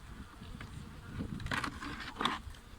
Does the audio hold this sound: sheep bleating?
no